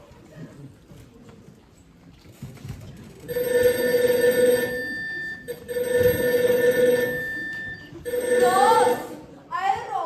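A household telephone rings in three loud electric bell bursts with short pauses between them, after a quieter stretch of faint background sound and movement.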